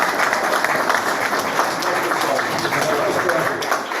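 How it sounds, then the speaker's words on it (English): Applause from an audience at an agency event on harnessing AI, steady close clapping filling the room for a few seconds, with a voice faintly underneath. "Round of applause for Gordon and"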